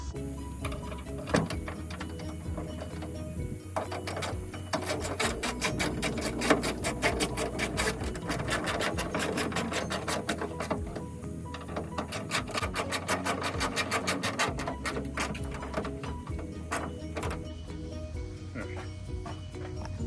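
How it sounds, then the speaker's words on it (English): Bolts on the hood of a 2001-2006 Acura MDX are tightened during a hood replacement, giving quick, steady metallic clicking in fast runs, fairly close but moderate in level, with no one talking. "Now we tighten the bolts."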